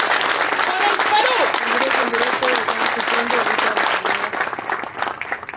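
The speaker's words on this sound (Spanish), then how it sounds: "Hoy todos merecemos un fuerte aplauso por Lambayeque," Audience at a civil society forum in Lambayeque, Peru, breaking into sustained loud applause, a dense continuous wash of clapping from a crowd that tapers slightly at the end, with a voice speaking over it.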